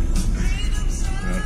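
A Toyota Kijang Krista with a Blackcore engine rolling in fifth gear without throttle, giving a steady low engine and road drone from inside the car, even and continuous over a short stretch with no talk.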